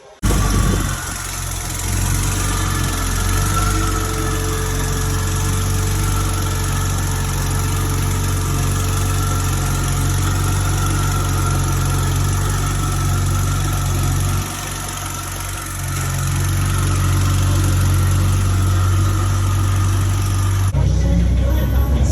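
A Vauxhall Astra J VXR 347bhp hybrid-turbo engine idles close up with a new MIJ exhaust backbox, a loud steady low burble and drone that dips briefly midway, then settles again before cutting off at the end.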